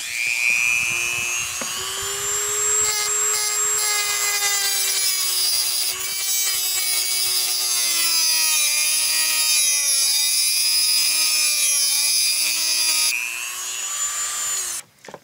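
Rotary tool cutting a slot into a stripped Phillips screw head while removing the front skin of a 1957 Aljo trailer, a loud, continuous high-pitched whine with pitch that dips and wavers under load for about fifteen seconds.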